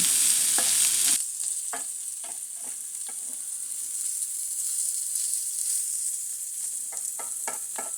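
Rice browning in a pan with seasoning, a steady close sizzle after a brief louder burst at the start, with intermittent scraping stirs and taps of a utensil.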